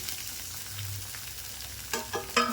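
Peanuts and coriander sizzle steadily in a hot pan while semiya upma is being made, a soft continuous hiss with a few sharper scraping stirs near the end.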